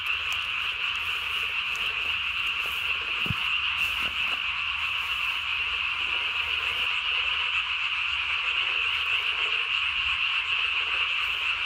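A steady nighttime chorus of tree frog calls runs without pause, loud and close, with a faint low knock partway through and no one talking.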